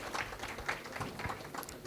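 Brief scattered applause from an audience at an anniversary ceremony, light uneven claps heard at moderate distance for about two seconds.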